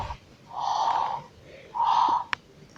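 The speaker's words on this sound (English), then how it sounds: "the snore sound is really long" A Furby Furblet Grogu toy gives a long electronic snore, two drawn-out wheezy breaths in and out, close and clear, ending with a short sharp click.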